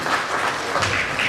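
Audience applause at an anniversary function honouring journalists of a weekly newspaper, a dense, steady patter of many hands clapping at once, loud and close.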